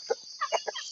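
Backyard chickens belonging to someone's mother give a few short clucks at close range, a soft burst followed by a quicker cluster of calls, with no talking.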